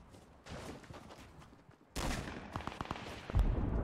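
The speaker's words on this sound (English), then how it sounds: "I hear gunshots." Gunshots in a Fortnite 50 v 50 match, a quieter distant rattle that swells into a louder burst of rapid sharp cracks toward the end, no voices present.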